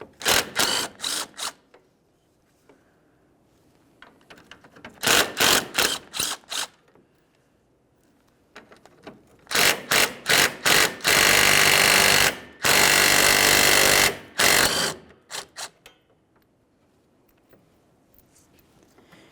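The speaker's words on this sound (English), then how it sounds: "With that marked, we'll remove our 3 12mm headed bolts." A power ratchet or impact tool spins out three 12mm bolts on the AC condenser of a 2012-2018 Nissan Altima 2.5L four-cylinder. It comes in loud, close bursts of rattling whirs separated by quiet pauses, with longer sustained runs midway.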